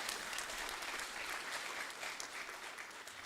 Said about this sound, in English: Can we have a real round of applause for her?